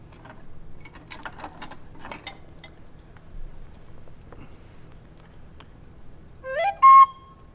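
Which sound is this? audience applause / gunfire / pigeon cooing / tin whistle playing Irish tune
tin whistle playing Irish tune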